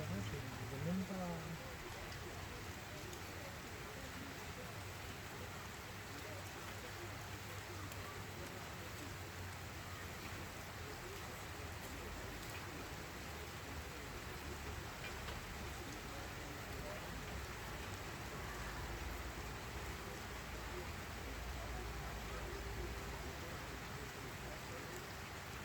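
Steady, dense rain pours through a strong thunderstorm in Pfastatt on a Tuesday in April, a continuous wash of drops on surfaces lasting throughout, with low murmuring voices faintly underneath.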